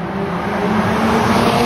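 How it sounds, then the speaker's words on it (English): Modified Honda Civic sleeper under acceleration, a steady close engine roar with a turbo whoosh running continuously through the short stretch, no talk. "right away, you definitely noticed... turbo sound, ooh, and the whoosh"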